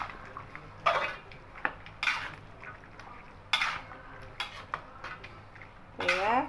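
Mint, green chili and chicken being mixed in a metal bowl, a few sharp scraping clatters of a spoon against the bowl spaced through a quiet background.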